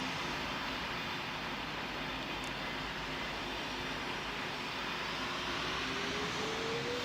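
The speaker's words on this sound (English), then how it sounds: "clear to take off from runway 15" A constant engine roar fills the scene as an airplane takes off from the runway in Roblox's Pilot Training Flight Simulator, steady and close, with a faint tone that slowly rises near the end.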